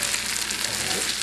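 Spicy crab pasta being stirred in a hot pan, with a steady, close sizzle and soft scraping that carry on evenly throughout, with no voice.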